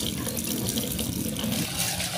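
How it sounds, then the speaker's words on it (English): Water from a tap pours steadily and loudly into a bowl of rice being rinsed in a kitchen sink, a continuous splashing rush with no talk over it. "you're supposed to wash your rice. A little water in there. Then swirl it around."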